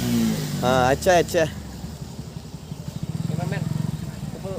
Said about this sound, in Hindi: ओ भाई पीछे बाइक आ रहे हैं